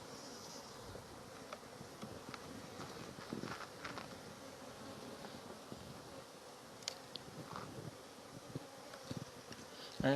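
Honey bees buzz around a brood frame lifted from a hive during queen rearing, a soft continuous hum of many insects with occasional closer individual buzzes and faint handling clicks.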